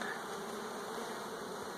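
Bees crowd around a hive feeder, making an even, continuous buzzing hum that stays constant and moderately close.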